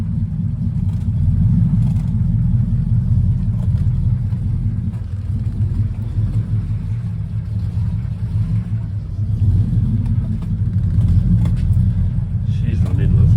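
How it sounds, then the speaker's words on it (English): A Triumph Stag idles steadily right after its first start following months of storage, a deep continuous low rumble that stays close and even throughout, with a slight rise in level near the end. "I keep my Triumph Stag. I've just started it up for the first time."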